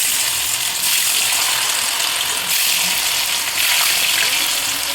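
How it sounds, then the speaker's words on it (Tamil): Raw plantain pieces fry in hot oil in a kadai, giving a loud, steady bubbling hiss that swells slightly a few times and continues without pause. "வாழைக்காய் ஃப்ரைக்கு கடாய் வச்சு எண்ணெய் ஊற்றி காய வச்சிடலாம்"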